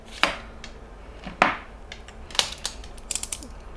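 A nipper cutting small motor wires: sharp close snips at separated moments, followed by a few lighter quick clicks and handling noises at the end.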